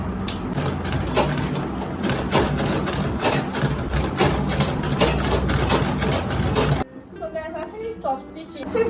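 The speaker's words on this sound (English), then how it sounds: "Then I will top stitch." Sewing machine top stitching an Ankara fabric bag panel, a dense steady mechanical chatter running for several seconds up close, then cutting off abruptly into quieter handling sounds.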